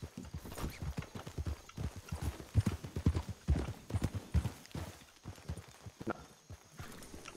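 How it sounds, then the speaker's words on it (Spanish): Several horses walk in Red Dead Redemption 2, their hooves making steady, overlapping clip-clop beats that stay fairly close and clear for the whole stretch, with no talking over them. "Hay un par de caballos ahí al frente, me parece"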